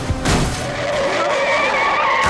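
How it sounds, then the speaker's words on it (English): Tires skid with a long, loud screech as a car slides out of control in an accident scene from the anime Death Note, the squeal holding steady for about two seconds. "Mogi and Iber see the accident play out, confirming that the officer is, in fact, dead"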